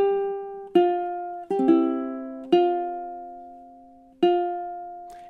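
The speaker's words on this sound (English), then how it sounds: "here is measure 22 and 23 in time together" Ukulele plays measures 22 and 23 of a film theme: five plucked notes and chords in slow time, each ringing clearly and decaying alone, with no voice.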